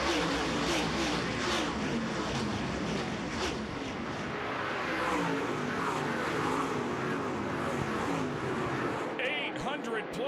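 Lucas Oil Late Model race cars roar to life at the start of the 2011 Knoxville Nationals in a packed field. A dense, continuous wall of engine noise sits under an announcer's commentary.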